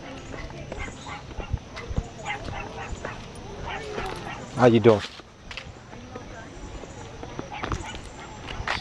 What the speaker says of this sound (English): Damn, somebody got a dog in the car.